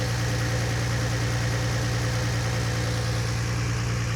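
A Nissan 350Z engine idling after an engine swap, a loud, steady, close hum with an even low throb and no breaks.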